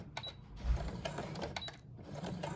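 Domestic sewing machine run by foot pedal stitching a cloth face covering, with short bursts of mechanical whirring and clatter over a steady low hum, close by, no talk.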